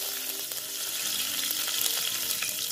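Curry leaves crackle in hot oil with cumin and mustard seeds for a dal tadka tempering, a dense, steady, close sizzle with quick popping spatters throughout.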